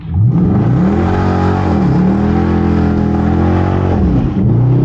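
A 2023 Dodge Charger R/T engine revs hard and climbs in pitch as it accelerates, dips, then surges again, loud and close throughout.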